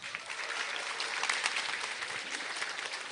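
Seminar audience at a business success academy applauding, a sustained dense round of clapping from many hands, fairly loud and steady throughout.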